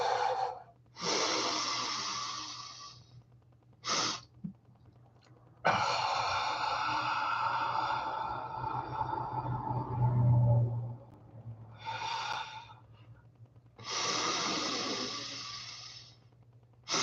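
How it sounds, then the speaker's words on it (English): Slow breathing exercise: several drawn-out inhales and exhales follow one another with short pauses between them, close to the microphone, with no other sound around them. "So breathing exercise."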